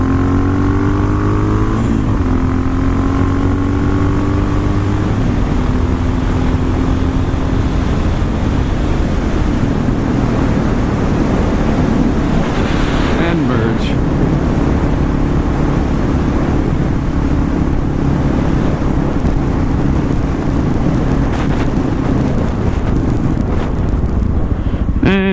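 A motorcycle accelerates hard onto the interstate, its engine note climbing through the gears under loud, constant wind rush and road roar that swamps everything for the whole stretch.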